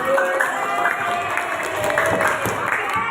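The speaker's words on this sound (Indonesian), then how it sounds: "Kita semuanya tepuk tangan untuk yang aktif." A school class claps for active students, a short burst of scattered clapping and crowd noise in a classroom, with voices mixed in.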